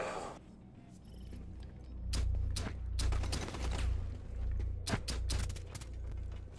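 Rapid video-game gunfire marking a headshot: a burst of sharp, loud shots over a low steady rumble, with several distinct cracks spread across the clip.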